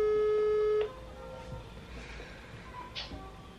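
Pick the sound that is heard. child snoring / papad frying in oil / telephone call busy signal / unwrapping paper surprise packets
telephone call busy signal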